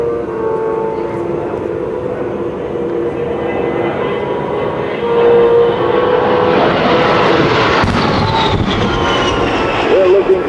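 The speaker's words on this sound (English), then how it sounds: "A-10's inbound." A-10 attack jets fly in during an airshow airfield attack demonstration at NAS Willow Grove, a loud, building roar of jet engines that swells and sweeps past, continuous throughout.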